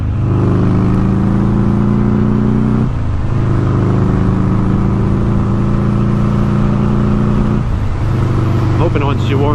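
A Buell motorcycle engine runs loud and close, with two dips where the revs fall and rise again, and someone talks over it.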